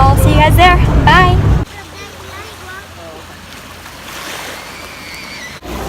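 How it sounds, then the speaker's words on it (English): A boat crosses the sea toward Formentera, with wind and waves rushing steadily and splashing against the hull; someone talks loudly at first, then the water and wind noise carries on alone. "So we're on our way on a boat"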